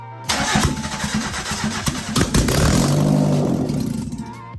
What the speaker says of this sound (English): So it runs, but it had no fuel supply, which is why the engine died pretty quickly.